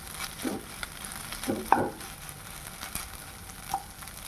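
Red potato bhaji being stirred together with fresh coriander in a pan, soft sizzling frying with a few scraping stirs and clinks of the spoon against the pan, no talking.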